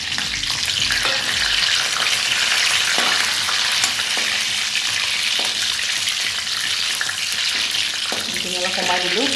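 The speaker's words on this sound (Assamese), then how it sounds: "কিচমিচ কেইটাও দি দিলোঁ।" Raisins fry with suji (semolina) in a hot pan, a steady, dense sizzle and crackle running loud and unbroken throughout, with no talking.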